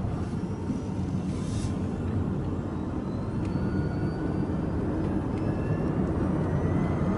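A BMW i8 accelerates in electric-only front-wheel-drive mode on a slippery surface, a steady low rumble of road and tyre noise heard from inside the cabin, growing slightly louder with no talk.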